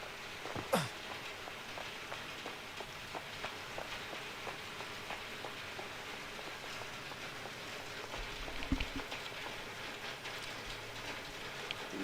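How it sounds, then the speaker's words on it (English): Heavy rain falls outdoors as a steady, even wash of patter with dense scattered drops, heard from indoors at moderate distance, with a couple of brief faint thumps. "Wow, it is raining pretty heavy out there right now."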